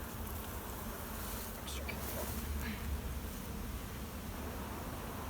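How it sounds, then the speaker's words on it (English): A dense, steady hum of honeybees swarms around an opened hive during inspection, a continuous buzzing that fills the whole stretch with no clear breaks. "We're gonna get to really get in there, see how all the bees are doing"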